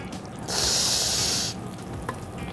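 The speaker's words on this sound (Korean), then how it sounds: "일단 튀기도록 하겠습니다." A loud sizzling hiss bursts up for about a second as food drops into hot butter for deep frying, then settles to a quieter bubbling crackle.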